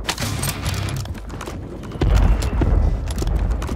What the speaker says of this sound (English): can't tell where I'm hearing these footsteps at